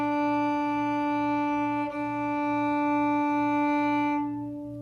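A cello is bowed smoothly using only the weight of the bow, sustaining one steady, rich tone with many overtones for several seconds before it fades at the end.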